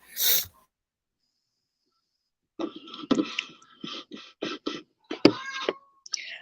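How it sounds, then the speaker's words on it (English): A short, forceful blast of someone blowing their nose, followed after a pause by a series of quieter nasal snorts and sniffles. "I got to blow my nose."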